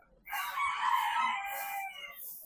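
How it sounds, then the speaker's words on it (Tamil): A Phoenix breed rooster crows once at a bird park in Trichy, a single drawn-out call heard clearly at moderate distance against an otherwise quiet background. "இது ஃபீனிக்ஸ், ஜெர்மனி கோழியாங்க."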